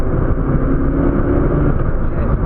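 A turbocharged Porsche 959 or Ferrari 288 GTO pulls hard on boost, giving a loud, dense, steady engine roar for a couple of seconds from inside the car.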